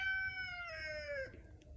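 A single drawn-out rooster crow, fairly faint and slightly distant, with the long call sliding downward before cutting off into quiet outdoor background.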